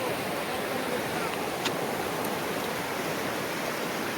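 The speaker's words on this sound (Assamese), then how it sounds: "এইটো হৈছে চুইচ গেট নদীৰ ঢৌ চাওক" River water pours through a sluice gate at Bhutan Chowki, a steady, dense rushing roar that holds unbroken and fairly loud throughout, with no voices.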